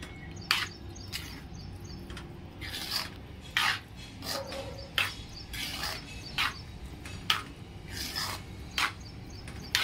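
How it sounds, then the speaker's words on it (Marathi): A spoon stirring paneer curry in a pan gives repeated rasping scrapes in an irregular rhythm, close and moderately loud, with no talking. "मिक्स करून घेते छान असं."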